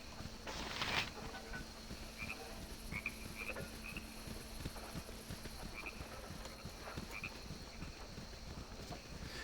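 Frogs croaking beside a river in a video game, a quiet night scene of faint repeated croaks and clicks over a soft steady ambient bed, with no one talking.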